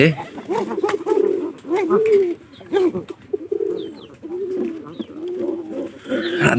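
Pigeons, a pairing of a local deshi pigeon with a Giribaz, coo in repeated throaty phrases close by, while someone talks over them.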